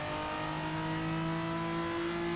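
A Mitsubishi Evo IX FQ320 with a six-speed gearbox drives out of the Nürburgring Carousel, its engine holding a loud, steady droning note under load that climbs gradually in pitch as it pulls.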